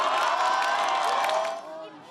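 People gathered outside watching a live court verdict broadcast erupt in applause and cheers, a loud crowd roar with mixed voices and claps that fades toward the end.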